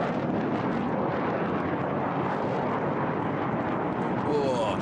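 A HAL Tejas jet in a high rate turn at an air show in Bahrain makes a loud, continuous broadband roar. It sounds like distant engine rumble mixed with wind buffeting, steady throughout without a clear voice.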